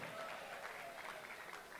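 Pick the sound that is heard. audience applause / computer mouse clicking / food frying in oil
audience applause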